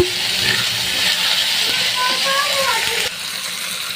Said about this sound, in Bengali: আলু দিয়ে দিলাম করলা ভাজির জন্য।